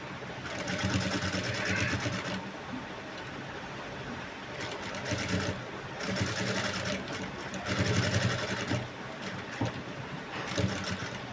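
A sewing machine stitching a blouse with piping and potli buttons runs in a rapid mechanical chatter, close and fairly loud, speeding up and easing off in several bursts with no pause in between.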